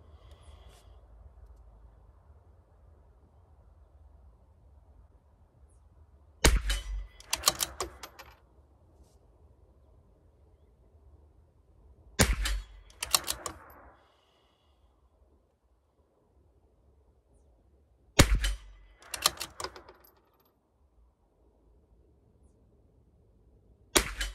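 A CZ457 rifle fires fouling shots with Eley Pistol Plus rimfire ammunition, four sharp cracks spaced several seconds apart, each trailed by a short rattle of bolt cycling, set against quiet outdoor background.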